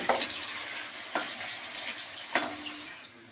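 Paneer pieces lightly frying in white oil and ghee, a soft steady sizzle with a few sharp spatula clicks spaced about a second apart, close and quiet.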